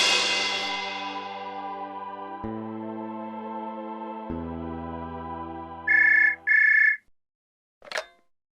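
A phone ringtone plays a few descending chime notes, then two short electronic rings, followed by a brief click.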